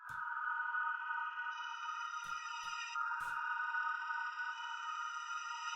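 Grain swells synth preset run through Portal with a bandpass EQ, a sustained airy tonal pad with shimmering upper layers entering partway, punctuated by a few brief bright clicks, steady and alone.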